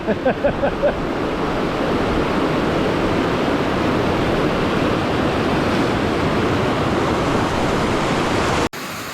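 Water pouring over a weir on a salmon river, a steady, loud, broadband rush that holds constant and close, with no voices over it.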